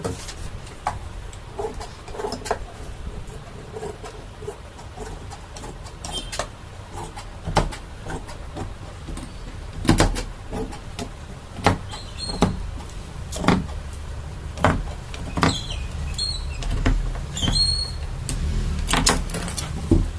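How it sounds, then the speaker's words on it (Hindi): Scissors snip through saree fabric as it is cut into a dress, a series of crisp, irregular cuts over a low room hum, with no talking. "अब मैं इसकी कटिंग कर रही हूँ।"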